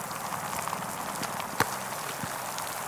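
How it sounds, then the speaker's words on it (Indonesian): Rain falls steadily outdoors in a continuous broadband hiss, with scattered drops and a sharp knock partway through. "Wah, hujan."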